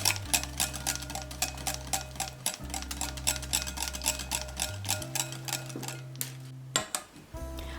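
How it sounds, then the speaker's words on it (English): Egg yolks and oil being stirred into a creamy emulsion make quick, regular clicking and scraping strokes against a bowl, close and steady, over a low sustained musical background. "we emulsify those yolks with the oil, and we create a nice creamy"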